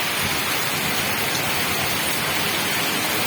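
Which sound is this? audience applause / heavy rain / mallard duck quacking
heavy rain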